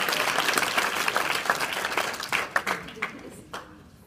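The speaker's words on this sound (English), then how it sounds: "So give that one more round of applause." A crowd at a talk on race with teenagers present claps loudly at first, then the applause thins into scattered individual claps and fades out.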